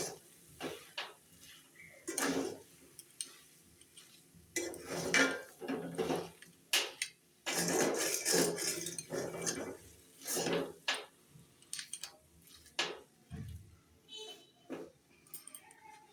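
A spoon stirs sweetened vegetarian cabbage curry in a pan, making close, irregular scrapes and metallic clinks against the pan in short bursts, with quiet pauses between them.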